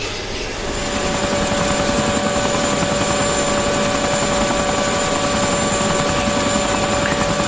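A helicopter in the military shooter Arma 2 drones loud and steady, its rotor thrum and turbine whine continuous from start to finish, without speech.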